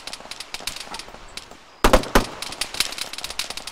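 Rapid bursts of gunfire crackle in an ArmA 3 firefight, with scattered distant shots building into a louder close volley of sharp cracks midway, followed by continued irregular firing.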